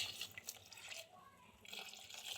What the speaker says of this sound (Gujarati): અને આપણે હવે પાણી નાખી દેવું બફાય એટલું